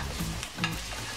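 Chicken fillet rolls sizzle and fry in a pan with a steady crackling hiss, broken by a couple of brief stirring scrapes, close and at moderate volume with no talking.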